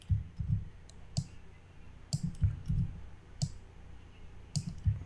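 Keyboard keys are pressed repeatedly for a Ctrl+D shortcut, giving soft, close clicks in irregular pairs and small clusters with quiet gaps between.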